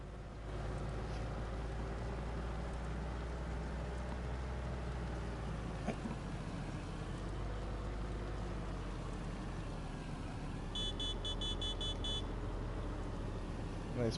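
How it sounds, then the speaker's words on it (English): Farm truck engine in Farming Simulator 19, a steady low droning rumble that runs throughout at an even level, with a few faint electronic beeps near the end and no talk. "I love the sound of this truck."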